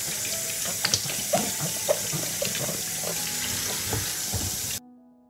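Fresh peppers rinsed under a running kitchen tap, a steady hiss of water broken by irregular splashes and knocks as the peppers are handled, close by, ending abruptly in silence.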